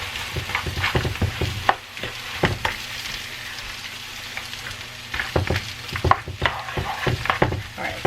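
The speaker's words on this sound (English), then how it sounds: "we just scramble the eggs in here" Eggs being stirred and scrambled in a hot pan, with crackling sizzle and repeated scraping strokes, pausing briefly in the middle before the stirring resumes, close and fairly loud.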